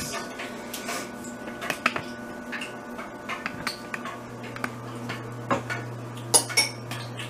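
A metal spoon clinks and scrapes against dishes in a home kitchen while sauce is tasted, giving scattered close, sharp taps and rattles over a low background hum.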